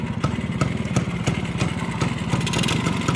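A vintage 1953 BSA Bantam motorcycle engine idles with a steady, lumpy putter, irregular low thumps repeating close by for several seconds.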